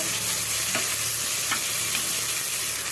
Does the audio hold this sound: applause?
no